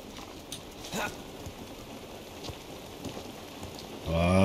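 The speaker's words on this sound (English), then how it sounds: "It's raining." Steady rain falls in the video game The Last of Us, a soft continuous patter with scattered louder drops. A voice begins speaking near the end.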